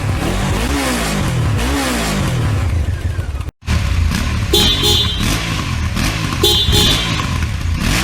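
A cartoon quad bike's engine starts and revs loudly and continuously. The roar breaks off once, briefly, and honk-like toots ring out over it.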